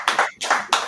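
Three short bursts of hand clapping from an audience at a class event, each burst quick and close, separated by brief gaps.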